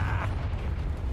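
Confringo fire spell blasting in Hogwarts Legacy combat: a short, loud, rumbling explosion, with a bright crackle at the start and a heavy low boom sustained through the rest, no talking.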